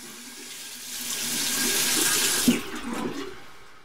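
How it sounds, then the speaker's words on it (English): Water from a bathroom sink tap runs steadily while someone washes their face, the flow swelling louder midway, with a brief splash near the end. "Time to wash your face."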